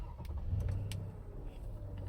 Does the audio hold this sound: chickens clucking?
no